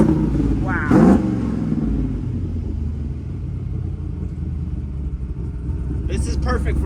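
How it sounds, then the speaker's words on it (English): A Blueprint LS3 427 engine in a rock crawler, a deep steady idle rumble with a slight rev near the start, voices briefly audible over it. "It sounds good. LS3. Oh, Blueprint LS3 427."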